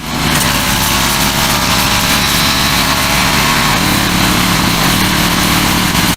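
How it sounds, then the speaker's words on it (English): Gas power washer with a pinpoint nozzle blasting a car wheel rim, a loud steady engine drone with a constant hiss of spray, unbroken throughout and close by. "Now on our power washer, we are using the pinpoint nozzle."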